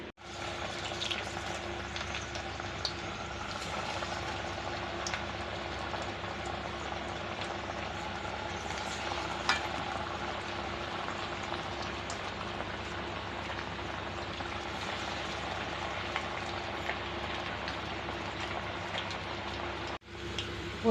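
Banana flower vadai fry in hot oil with a steady, dense sizzle and crackle. The sound is even and continuous throughout, with no talking.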